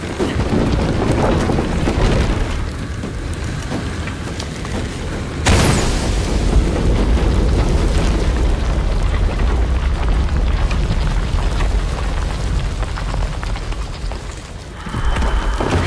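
An explosion in Shadow of the Tomb Raider, a sharp blast partway through that breaks a dense, rumbling roar of game noise, loud and continuous for the whole stretch.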